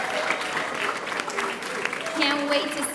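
An audience gives a round of applause for guests at a migration-story event, a steady, moderately loud patter of many hands with voices talking over it throughout.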